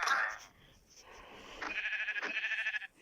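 A Minecraft sheep bleats in a wavering, vibrating cry after a short burst of other noise, sounding like a synthetic game effect.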